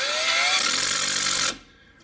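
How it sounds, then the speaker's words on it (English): A power tool tightens winch bolts on a Can-Am Outlander 570 ATV, whirring loudly and steadily up close with rising pitch for about a second and a half before cutting off abruptly. "then I need to tighten off the winch bolts."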